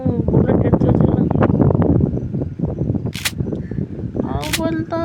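In the horror game Granny 2, a gun fires with sharp cracks among busy, noisy in-game sound and someone talking, with a couple of bright high bursts toward the end.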